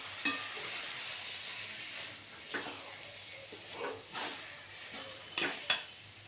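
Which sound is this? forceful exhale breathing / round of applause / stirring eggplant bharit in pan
stirring eggplant bharit in pan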